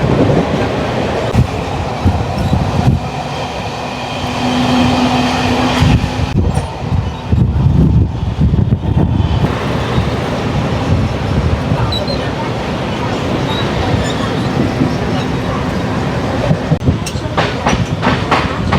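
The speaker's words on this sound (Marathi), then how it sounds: "जसं की मी बोललो होतो की गाडी ॲक्सलरेशन घेईल. परत एकदा 70-80च्या स्पीडने चालते." Mumbai CSMT–Khopoli fast local train speeding up toward 70–80 km/h, a loud, dense rumble of wheels and carriages with rhythmic clickety-clack and occasional squeal, continuous throughout, with voices faintly beneath.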